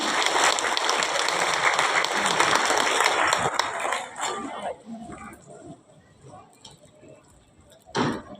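Audience applause fills the first four seconds at an outdoor Vesak celebration at Kampung Coklat in Blitar as Bapak Supaniaji goes up onto the stage, then fades into quieter background noise with a brief burst near the end.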